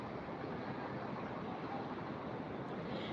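Strong wind blows across a terrace in a continuous, even rush, quiet overall and steady from start to finish, with no talking.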